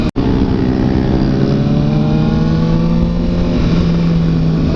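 Large-displacement motorcycle engine revving loudly and close, a steady throbbing drone with slowly shifting pitch that runs the whole time with no voices.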